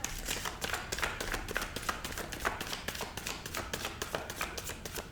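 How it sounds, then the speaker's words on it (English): A deck of tarot cards being shuffled by hand, a quick run of crisp, riffling taps and flutters repeating in a fairly even rhythm, close and moderately quiet with no talking. "I'm just going to do one more shuffle before I cut the deck."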